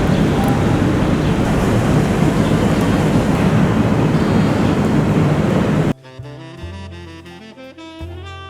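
Ocean waves wash steadily at a seaside lookout in Hong Kong, a loud broadband rush for about six seconds that stops abruptly as music takes over.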